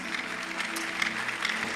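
A church congregation applauds during a Christmas gift-giving service, a dense, continuous patter of many hands clapping together for a short burst.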